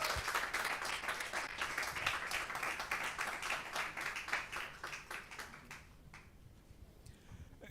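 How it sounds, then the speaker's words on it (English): Audience applause welcoming a speaker onto the stage at a digital and innovation week launch event in Ghana, dense steady clapping from a crowd that gradually thins and fades out toward the end. "Please, a round of applause."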